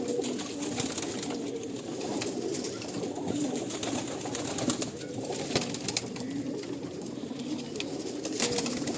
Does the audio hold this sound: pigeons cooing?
yes